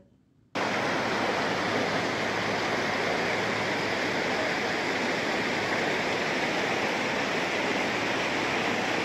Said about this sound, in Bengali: দাঁড়াও নদীর একটু আওয়াজটা তোমাদের শোনাই